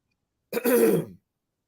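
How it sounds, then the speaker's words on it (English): One short, rough throat clearing, close and alone, lasting under a second against silence. "Just had to clear my throat."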